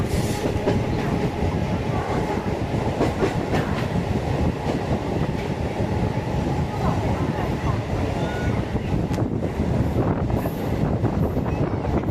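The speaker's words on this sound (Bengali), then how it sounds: "আমাদের ট্রেন এখন পার করছে তার প্রথম স্টেশন লিলুয়া" A Howrah–Bardhaman local train runs through Liluah station with a loud, continuous rumble and rattle of carriages on the rails, steady throughout, recorded from on board with wind buffeting the microphone.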